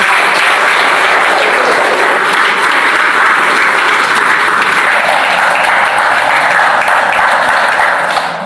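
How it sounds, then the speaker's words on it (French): Loud, sustained applause and cheering from a church congregation acclaiming the Lord, a dense roar of clapping filling the room nearby without letup. "Est-ce que tu peux acclamer le Seigneur?"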